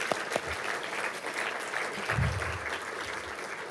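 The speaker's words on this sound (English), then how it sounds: "So let's give them all another round of applause." An audience gives sustained, dense applause for innovation prize award recipients, steady clapping throughout with faint voices mixed in.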